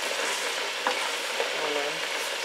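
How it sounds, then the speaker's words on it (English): Corned beef curry sauce being stirred sideways in a pot, a soft close scraping and bubbling sizzle with a couple of brief utensil knocks over a short stretch. "So as I'm stirring it, I'm going sideways, I'm not going like you're doing porridge"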